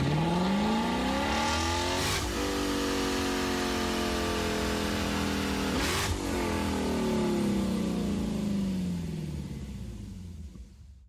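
Lexus LC500 engine in Gran Turismo 7, revving loudly as the car accelerates through several gears, each climb broken by a sharp shift, then the engine note falls away and fades at the end.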